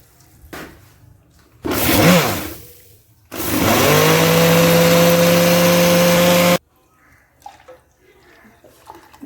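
Water poured from a glass into a jug of homemade mint and lemon juice with black salt, a loud steady splashing gush lasting a few seconds after a shorter burst, then quiet kitchen clatter.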